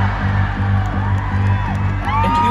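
A concert crowd at a show at Footprint Center whoops and cheers loudly over a steady low hum, with rising and falling shouts through the short burst.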